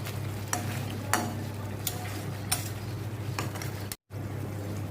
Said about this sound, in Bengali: এখন আবার ভুনা করে নেওয়ার ফলে কচুর বড়াগুলো একেবারে নরম হয়ে সেদ্ধ হয়ে